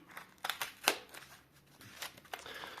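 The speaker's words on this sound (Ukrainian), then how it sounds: "Аккуратно розрізаємо скотч." Quiet snipping and scraping as packing tape on a parcel is cut open, a few sharp crackling bursts close by with soft rustling between.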